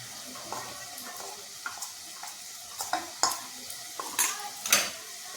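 Red chili powder being sautéed and stirred in a pan for masoor dal amti, with a soft continuous sizzle under intermittent scrapes and clinks of a spoon against the pan, close and moderately quiet.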